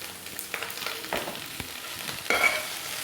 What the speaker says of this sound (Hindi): और आलू को फ्राई कर लेंगे।